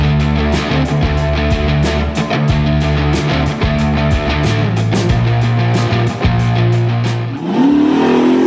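A powerful car engine roars loudly and steadily, revving hard with rising pitch, then surges higher in a final burst of acceleration.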